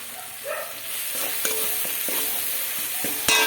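Spice paste with coriander and chilli powder fries in a pan, a steady sizzle under repeated scraping strokes of stirring, close and fairly loud with a brief clatter near the end.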